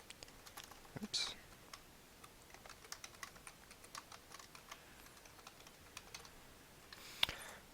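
Keystrokes on a computer keyboard while logging in to an Oregon State shell server, a faint scattered run of soft clicks with a couple of louder taps, quiet throughout with no talk over them.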